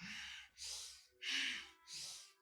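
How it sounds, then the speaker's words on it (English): Deep, steady nasal breathing during meditation, four long airy breaths alternating in and out at an even pace, close and isolated in a quiet room. "Feeling the air coming in and going out."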